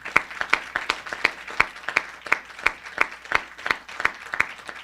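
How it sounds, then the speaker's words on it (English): A small group applauds during a county council proclamation honouring a teacher, sparse individual claps in a steady rhythm, fairly close and clear, with no talk over them. "That deserves a round of applause just for that."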